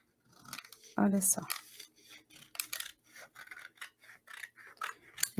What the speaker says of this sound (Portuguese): Deixa eu ver com a tesoura aqui.